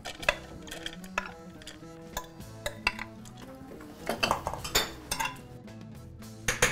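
Metal clanks and clinks of pots and utensils, a few sharp knocks as a pot is set down among softer kitchen rattles, while making seffa with steaming.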